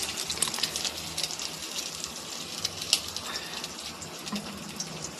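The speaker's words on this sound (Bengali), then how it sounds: "ডিমটাকে ভাজছি।" An egg fries in mustard oil in a pan, a steady crackling sizzle with a few sharper pops, moderately loud and continuous, with no voices.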